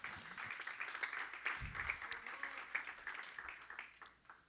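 A church congregation claps steadily in rhythm during a Spanish-language worship service, with a sustained musical tone underneath and no speech.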